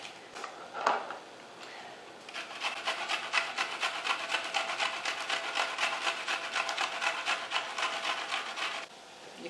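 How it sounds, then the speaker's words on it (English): Garlic rasped on a grater in rapid rhythmic strokes, a steady scratchy scraping that runs for several seconds close by after a brief knock. "so now I'm grating a pot of garlic"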